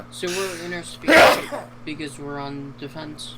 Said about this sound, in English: That was a gnarly sneeze.